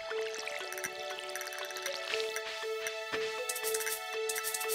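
Crops are watered with a watering can in the Stardew Valley video game, a light splashing, trickling game sound effect with soft drips and chimes layered over steady background game music, no voices.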